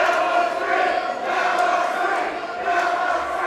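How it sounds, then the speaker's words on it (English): Wrestling crowd at a Relentless Wrestling match roaring in protest after a referee's near-fall count in a title bout, a sustained mass of shouting and jeering voices that swells and dips in loudness without any single voice standing out. "The crowd not agreeing with referee Stevens' count"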